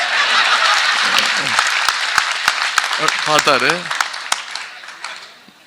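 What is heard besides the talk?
audience clapping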